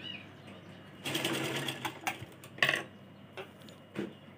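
A sewing machine stitches the sleeves of a child's silk lehenga choli in bursts: a dense run of whirring and ticking, then a few short isolated clacks, close and moderately loud.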